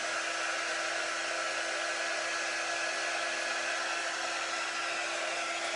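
A hair dryer blows steadily and loudly at close range, drying a painted craft piece before it gets sanded, with no talking over the continuous whooshing hum.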